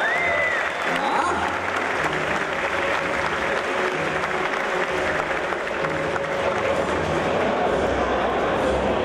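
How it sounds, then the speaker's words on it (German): A large convention crowd at Gamescom applauds a Blizzard costume contest entrant dressed as Kerrigan from StarCraft, a sustained, dense roar of clapping filling the hall for about nine seconds, with faint voices and a brief tone woven through. "Großen Applaus"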